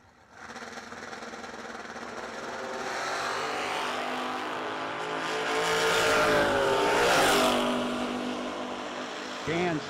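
Two drag cars, Don Dewey's 1966 Nova and Joshua Gans's 1976 Vega wagon, launch side by side at a bracket drag race. Their engines roar and build to a loud, rising peak before easing off, under an announcer's voice.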